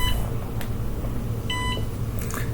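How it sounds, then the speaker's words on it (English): An electronic chess board gives short bright beeps, a brief tone near the start and a sustained beep a little later, over a steady low background hum. "it's pretty beepy, like it beeps you lots and whatnot"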